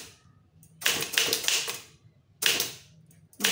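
Keys clack in two dense bursts on a Tamil typewriter as an official letter is typed, rapid strokes with short gaps between runs, close and fairly loud with no talking.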